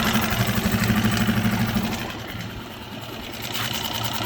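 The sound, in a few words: Suzuki outboard motor idling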